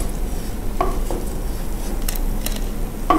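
Chicken sizzles in hot oil with a steady crackle, broken by a few sharp clinks of a utensil against the pan.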